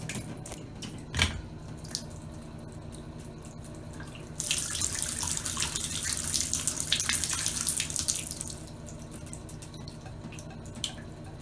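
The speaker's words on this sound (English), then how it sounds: "water won't go down the drain if there's more than like a minute of running the water" Tap water runs steadily into a sink with a slow, clogged drain, a continuous hiss that swells louder for several seconds in the middle before easing back, with a few faint drips and clinks and no talking.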